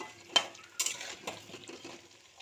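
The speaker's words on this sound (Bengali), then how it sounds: "এবার আলুগুলোকে একটু ভালো করে ভেজে দেবো" Potato pieces fry in mustard oil for a mutton curry, with a faint low sizzle beneath sharp clinks and scrapes of a utensil stirring against the pan.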